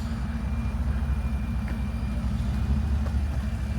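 A Ford F-150 pickup truck engine runs with a deep, steady rumble and throaty low drone, close and loud, with no voices.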